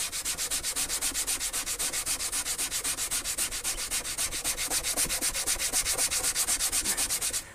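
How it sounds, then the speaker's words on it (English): Cheap sponge rubbed steadily over textured metallic paint, burnishing it in a fast, even back-and-forth rhythm of close, scratchy strokes throughout. "go back and burnish"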